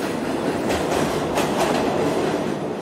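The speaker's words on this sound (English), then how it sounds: "He gets on the subway. He takes it into Manhattan." Subway train riding into Manhattan, with a steady loud rumble and rhythmic clickety-clack of the wheels, heard from inside the car without talk.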